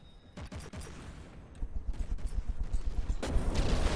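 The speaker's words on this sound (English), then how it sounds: "that's missile spam" Missiles launch in a rapid, rattling barrage during a spaceship battle video game, a dense run of gunfire-like bursts that grows louder and heavier toward the end.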